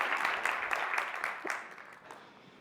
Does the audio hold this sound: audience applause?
yes